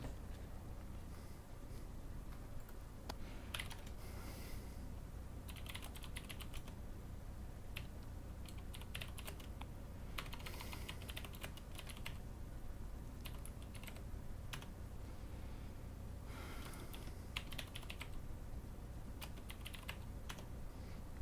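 Steady typing on a computer keyboard during a programming session with an AVR chip, with continuous close key clatter running throughout and no talking.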